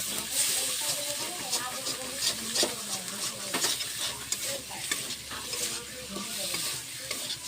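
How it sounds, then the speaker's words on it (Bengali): Fat fries in a pan with turmeric and spices, hissing and sizzling while a spoon stirs it in rhythmic scrapes, with a faint voice in the background. "তারপর মশলার মধ্যে চর্বিটা দিয়ে দিলাম, একটু কষিয়ে নেব।"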